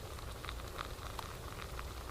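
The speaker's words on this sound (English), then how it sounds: "Let's take a look in there at our steamer. She's sizzling good." Rice steaming in a bamboo steamer over the fire, a faint steady bubbling sizzle with soft crackles and light pops throughout, quiet and continuous with no talking.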